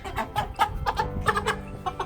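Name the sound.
chickens clucking before processing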